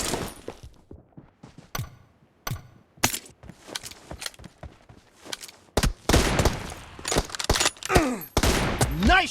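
Gunfire in the PUBG Mobile battle royale game: bursts of loud, close shots and rapid volleys that build from scattered cracks into dense, overlapping fusillades with sharp impacts.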